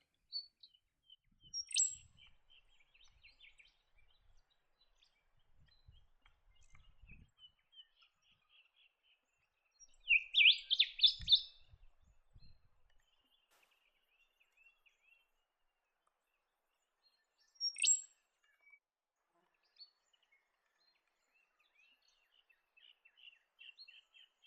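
Speckled warbler calls in dry woodland and open forest, heard as thin high chirps and short trilled phrases in scattered bursts, faint and fairly distant over near silence.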